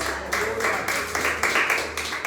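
A Pentecostal congregation at a Lord's Supper service claps in a quick, even rhythm, with voices rising over and around the clapping.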